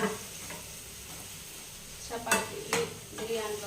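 Brinjal curry fries in a pan under a low, continuous sizzle. A spoon stirs and scrapes with a few distinct clatters near the end.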